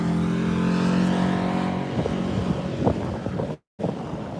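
A car pulls up on a street, its steady engine drone rising and shifting with wind buffeting the microphone, brief knocks and rumbles over the top, no talking.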